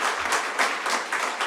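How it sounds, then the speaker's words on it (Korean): Church congregation clapping during a Korean afternoon worship service, a short burst of steady applause from a modest crowd in a hall, with no voices over it. "제 권한으로 찬송 감사도 박수 한번 보내주시면 좋을 것 같습니다"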